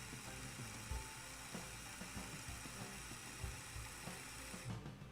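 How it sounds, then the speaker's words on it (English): The small motor of a LEGO Ideas Motorized Lighthouse (21335) running steadily, a faint fast whirring with light clicking of gears, heard close and alone. "That's a fast turning little engine."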